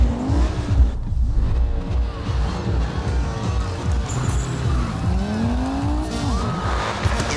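A Mercedes-Benz C63 AMG drifting in the racing game GRID 2, its engine droning and wavering steadily while tires squeal in long sliding sweeps, loud and close throughout.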